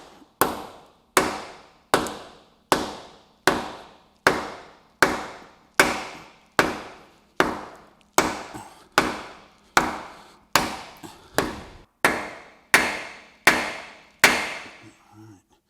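Steady, evenly spaced hammer blows driving a metal bushing into a Jeep TJ frame rail, about one per second, loud and close, continuing for over a dozen strikes.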